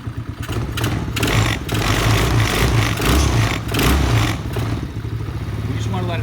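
A new Venom gas-powered ATV engine running loud and close after starting, a rough steady clattering drone with slight surges, while a person speaks over it.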